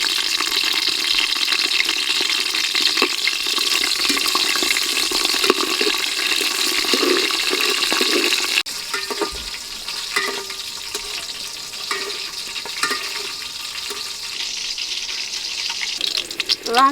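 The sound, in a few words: green and dried chillies frying in hot oil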